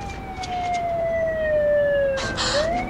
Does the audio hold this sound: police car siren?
yes